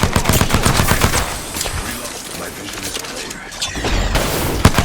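Rapid gunfire from a Mozambique shotgun in an Apex Legends-style battle royale match, loud and close, with bursts of shots and impacts clustered at the start and end while players talk over it.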